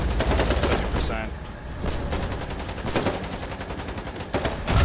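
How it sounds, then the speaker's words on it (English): Artillery shells landing during a tank battle in the war game Foxhole, a dense run of loud, rapid blasts and crackling gunfire that keeps going without a break, with faint voices mixed into the din. "I love the sound of artillery landing on a bunch of cobblers."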